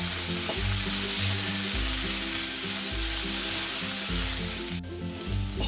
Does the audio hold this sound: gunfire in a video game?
no